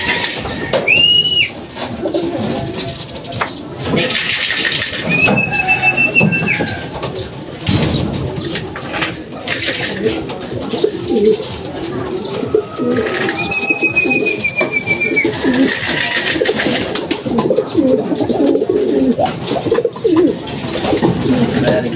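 Racing pigeons coo at the loft after a 94 km training flight, with soft repeated coos and bird calls running steadily throughout, up close, along with rustling and a few brief high whistles.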